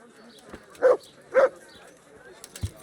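Two short barks from a dog in the video game Kingdom Come: Deliverance, spaced about half a second apart, with faint background game sounds around them.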